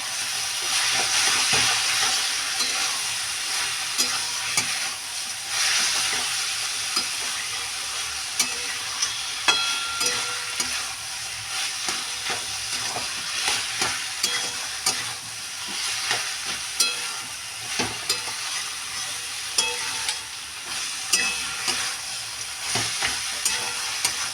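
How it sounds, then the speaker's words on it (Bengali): Cabbage cooked with rohu fish head sizzles steadily in a pan while a spatula scrapes and clatters through it in repeated strokes, close-up and continuous, with nobody speaking. "ভালো করে আবার নাড়ি চাড়িয়ে নেব।"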